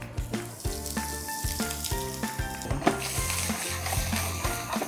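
Onions and garlic frying in olive oil in a pan, a close, steady sizzle and crackle that carries on without pause, with a tonal hum running underneath.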